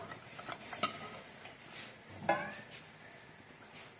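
Meat curry stirred in a cooking pot: faint, scattered clinks and scrapes of a spoon against the metal, with a couple of slightly sharper knocks over a quiet background.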